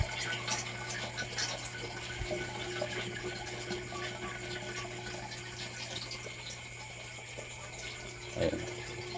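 Water runs continuously in a home aquarium, a steady trickling and bubbling hiss with a low pump hum underneath and a brief louder splash near the end.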